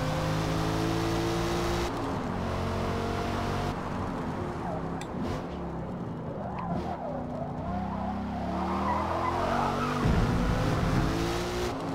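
A Chevrolet Camaro ZL1 on cold tires in Forza Motorsport, traction and stability control off and no ABS, roars with a revving engine and tires squealing as it slides. The sound is loud and continuous, with the engine pitch rising and falling.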